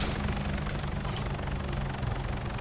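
Helicopter in a video game, a steady loud rotor and engine drone that holds constant throughout with no talk over it.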